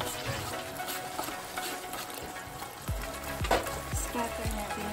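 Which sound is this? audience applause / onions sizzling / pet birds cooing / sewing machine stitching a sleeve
onions sizzling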